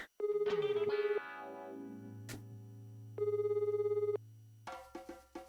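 An electronic telephone ring in the visual novel Cupid Parasite sounds in two long buzzing bursts separated by a pause, loud and close over a low hum, followed by short musical or chime tones.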